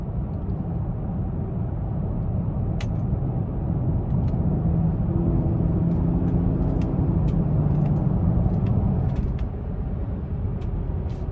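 Engine of a 2017 BMW X5 M Sport running in manual mode, a steady low cabin drone of engine and road noise with slight rises in pitch as it shifts.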